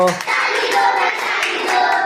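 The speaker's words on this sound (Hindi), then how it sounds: "ताली दो भाई ताली दो" Rapid group hand clapping in a children's clapping song, a steady crackling patter of many palms with recurring louder accents, near and unbroken across the moment.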